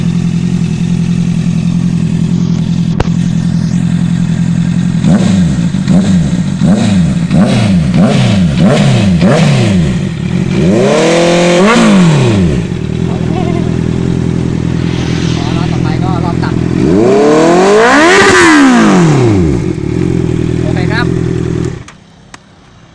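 A Honda CB650F motorcycle with an aftermarket AR exhaust idles loudly, then a quick series of throttle blips, followed by two long, full revs that climb and fall, heard up close.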